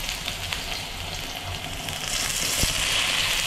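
Onions and aromatics sauté in hot oil for ginisa before fish and blue crab go in, giving a loud, continuous close-up sizzle with faint stirring underneath and no talk.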